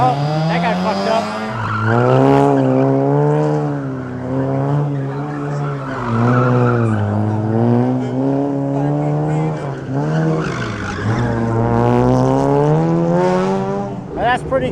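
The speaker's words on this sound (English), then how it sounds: "They have a gymkhana event going on during the races." Tires squeal and skid in long, wavering howls as a car slides through a gymkhana course at a race track during the Bang Saen Grand Prix street races, loud and close with a few breaks between slides.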